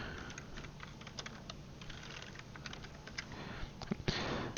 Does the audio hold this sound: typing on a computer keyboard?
yes